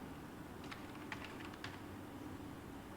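Soft, quick keystrokes on a computer keyboard while a table is filled in a Word document: a faint, short burst of light clicks over a low steady hum.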